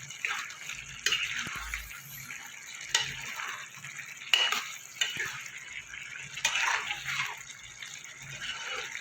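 Jackfruit curry with garam masala being stirred in a pan, a bubbling, wet sizzle broken by several sharp scrapes and knocks of the spoon, without speech.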